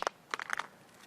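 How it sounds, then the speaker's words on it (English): A Samsung Galaxy Note 5 with Gorilla Glass 4 drops from head height onto the ground, giving a sharp impact followed by a quick clatter of smaller knocks and rattles. "head height, let's go ahead and drop this guy"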